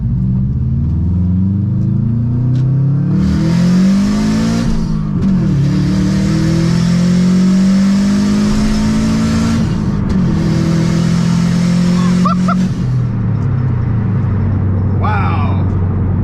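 A Subaru WRX accelerating hard, engine revving and climbing through gears in loud repeated pulls with brief dips between shifts, heard from inside the car, with a short spoken exclamation near the end.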